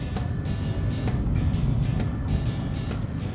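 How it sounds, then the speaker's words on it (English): A homemade electric car accelerating hard, with a steady loud rumble and drone of motor and road noise, broken by a few brief clunks and rattles. "So I'm going to intentionally accelerate hard here, pull a lot of amps"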